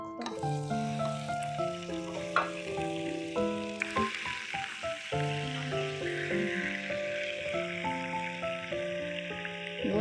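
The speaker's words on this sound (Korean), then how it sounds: "바로 문어 구워줘 볼게" A large octopus sizzles steadily as it shallow-fries in a pan, a continuous hiss that runs the whole time beneath louder melodic background music.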